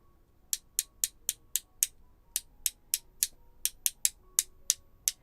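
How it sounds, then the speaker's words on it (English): About twenty sharp, bright taps of a paintbrush flicking watercolor paint, in a steady rhythm, close and fairly loud, with a brief pause partway through and no voices. "sorry about that tapping being extra loud"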